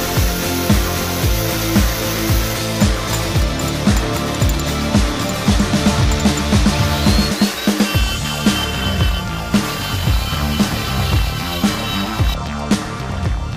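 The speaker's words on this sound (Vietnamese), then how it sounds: "Mình sẽ cắt để tạo thành một cái rãnh." A power tool grinds a slot into an iron box for a homemade punching tool, with loud continuous cutting and rhythmic bursts of metallic noise under background music, including a brief pause midway.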